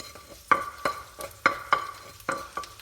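Squid frying in a pan is stirred in a steady rhythm of six scraping strokes over a low sizzle, close and clear with no talking.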